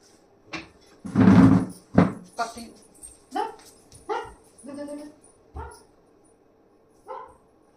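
A dog that got into a house barks indoors in a string of about eight loud, close barks at an uneven rhythm, with short pauses between them.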